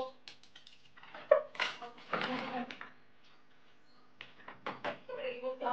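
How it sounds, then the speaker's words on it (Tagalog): Dishes, a cup and a bowl being washed by hand at a rural provincial home, with soft clinks and clatter scattered between stretches of nearby speech. "Tayo mga hugas ng pinggan."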